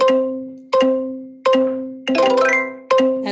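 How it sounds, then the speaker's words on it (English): Bright electronic success dings from a practice app, each chime marking one point scored: five clear tonal strikes roughly 0.7 seconds apart, each ringing and fading before the next, with a busier jingly flourish in the middle. "it gave me a success sound that accompanies 1 point"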